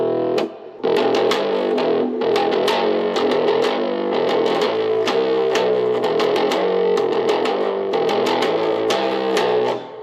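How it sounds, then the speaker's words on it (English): Heavily distorted electric guitar through a Joyo JA-05G plug-in amp at full distortion plays loud and continuous, with choppy rhythmic strums and sustained fuzzy chords, no voices. "Now let's go ahead and do full-blown distortion."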